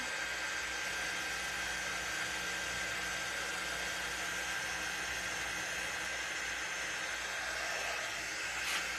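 A hair dryer blowing on wet craft paint on a watermelon popsicle door hanger, a steady close, even whoosh held throughout.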